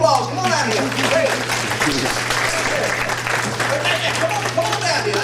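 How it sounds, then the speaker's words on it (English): Sustained audience applause for an award recipient at a Kiwanis Club ceremony, steady dense clapping from a crowd lasting throughout, loud and close with a steady low hum beneath. "Give him a big round of applause"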